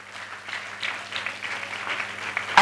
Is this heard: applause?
yes